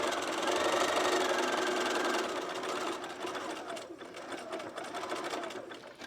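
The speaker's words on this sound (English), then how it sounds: "I'm going to fold it up and I'm going to sew it to the seam here like this." A sewing machine stitches a folded dress hem down to the seam, running steadily and close up at an even speed throughout, then easing slightly in the second half.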